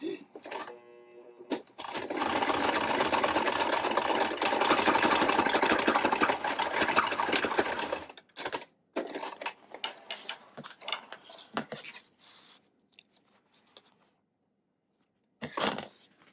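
A sewing machine runs in a fast, steady mechanical rattle for several seconds, then stops and restarts in short bursts with pauses between.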